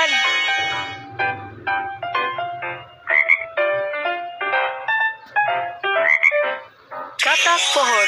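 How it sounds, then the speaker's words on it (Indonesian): Cartoon tree frog croaking from the BabyBus Little Panda school bus children's educational game's hearing quiz: a series of short, bright croak calls repeated in a bouncy rhythm over tuneful game music, loud and close. "Katak pohon."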